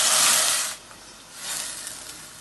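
Onion paste frying in oil with garam masala inside a cooker, a loud hissing sizzle that surges, dips briefly, then swells again, close up with no talking.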